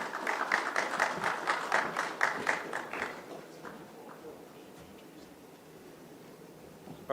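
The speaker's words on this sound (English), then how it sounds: "Round of applause." An audience at a drone summit applauds to welcome the moderator, with rapid dense clapping for about three seconds that thins to scattered claps and a quiet room before a voice begins at the very end.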